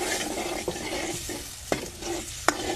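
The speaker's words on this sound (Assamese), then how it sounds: "এতিয়া মছলাখিনি ভাজা হ'ল" Spice masala with garlic paste frying in a pan for a dried-fish vegetable mix: a quiet steady sizzle broken by a few sharp clinks of a spoon stirring against the pan, with no talk.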